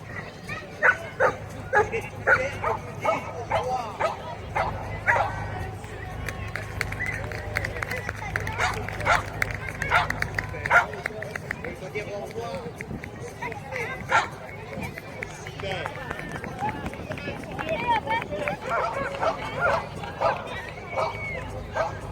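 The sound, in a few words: small dog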